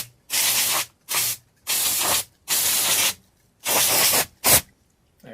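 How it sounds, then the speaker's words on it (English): A can of compressed air blasts in six short, sharp hissing bursts separated by brief silences, close and loud, while cleaning a BBC Micro Model B 8-bit computer during a rebuild. "I've got a can of compressed air"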